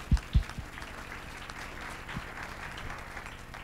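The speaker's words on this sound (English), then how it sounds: "please clap your hands." A conference audience claps together at a community luncheon, a soft even patter of many hands that continues steadily, preceded by two brief thumps near the start.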